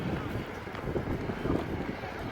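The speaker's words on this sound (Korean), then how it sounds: "바람이 엄청 부는데요 지금." Strong wind gusts across the wide open expanse of Tiananmen Square, a continuous rushing buffet on the microphone, moderately loud.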